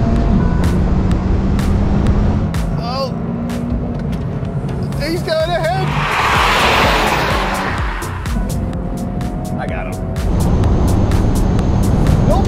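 Engines of a 2023 Honda Civic Type R and a Toyota GR Corolla roaring through a roll race, a steady loud drone with shifting tones as the cars accelerate, with a voice speaking in the cabin.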